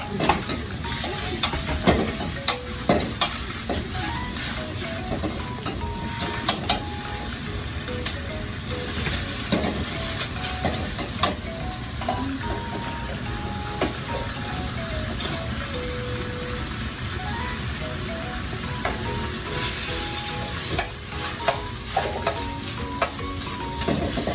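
A wok clatters as Thai street food is stir-fried, with loud continuous sizzling and repeated metallic scrapes and knocks from a spatula, plus brief running water partway through.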